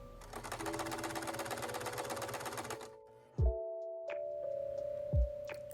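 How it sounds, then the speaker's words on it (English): Sewing machine stitching bucket hat pattern pieces, a fast rapid rattle for about three seconds, then stopping, followed by a couple of soft thumps and quieter handling noises. "I'm just sewing up the pattern pieces from top to mid-tier to brim"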